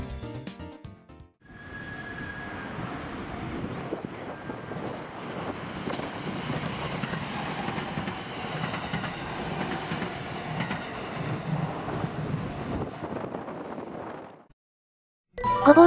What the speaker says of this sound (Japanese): ちょうど、御坊駅の普通電車がやってきそうね。